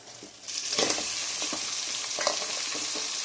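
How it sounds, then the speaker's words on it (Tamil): Cinnamon, clove, fennel and curry leaves frying in oil, a loud hissing sizzle that bursts in after a quiet start, with a few spatula strokes over it. "ஒரு பட்டை, ஒரு லவங்கம், 4 சோம்பு போட்டு நான் எண்ணெயில் வதக்கிட்டுருக்கேன்."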